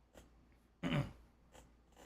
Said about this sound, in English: I have to clear my throat like DSP today.